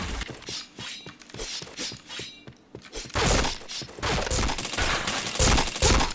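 Rapid bursts of gunfire from the online shooter Point Blank, sharp cracking shots in quick clusters, building to dense continuous firing in the second half, loud and close with no talk.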